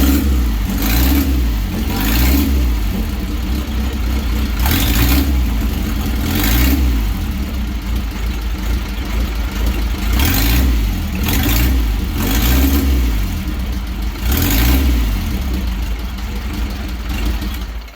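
A 1939 1000 cc overhead-valve EL motorcycle engine running up close and loud, its throttle blipped in repeated revs every couple of seconds over a steady low idle, with no talk.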